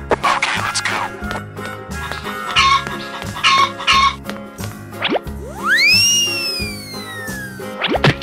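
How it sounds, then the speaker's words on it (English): Chicken clucks repeat in short bursts over a looping electronic game track, followed by cartoonish boing and sliding whistle effects. "Chicken."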